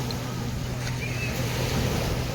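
A speed boat out on the sea at Jampore Beach in Daman, heard as a steady, loud roar of engine, wind and surf with a low hum running throughout and no talk.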